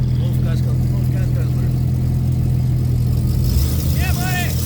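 A 1978 Buick Electra Park Avenue idles, giving a steady, loud low exhaust rumble that runs unbroken throughout, with faint chirps and voices layered over it.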